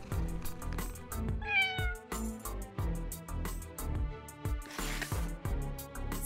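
A cat meows once over a busy, rhythmic musical backdrop with thumping beats, the meow rising clearly above the mix.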